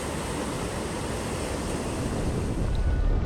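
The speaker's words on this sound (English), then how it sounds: "It's windy." Steady broadband roar of wind and breaking surf on the north coast of the Seychelles, loud and continuous with wind buffeting the microphone and a slight swell toward the end.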